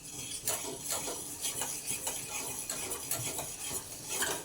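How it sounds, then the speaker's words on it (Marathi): Mung bean vegetable being stirred and sautéed in a pan with masala, a steady scraping and clinking of a spoon against the pan over a soft sizzle, close and continuous with no talk. "आता हे चांगला परतून घेऊ"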